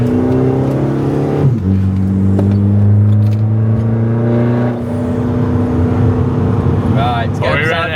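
VW Caddy vans fitted with R32 straight-pipe exhausts revving and accelerating hard side by side in a drag race, a loud, droning engine note that shifts pitch midway, with voices heard over it.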